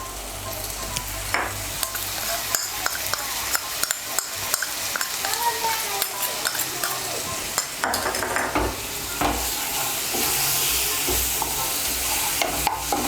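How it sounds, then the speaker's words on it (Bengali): A spoon stirs a spice paste of chili, coriander and cumin powder as it fries in a pan for mixed dal tarka. Quick, irregular scrapes and clicks sit over a constant close sizzle. "মশলাটা মিশিয়ে নেব ভালো করে।"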